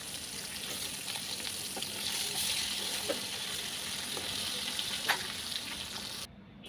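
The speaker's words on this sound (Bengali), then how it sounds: "এইভাবে সবগুলি মাছ ফ্রাই করে নিব" Koi fish fry in hot oil in a wok, giving a steady, close, dense sizzle with small pops and crackles throughout and no voices.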